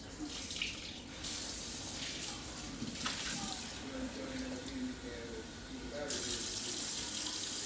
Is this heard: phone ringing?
no